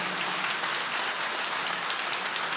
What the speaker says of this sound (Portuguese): Vamos aplaudir ao Senhor mais uma vez?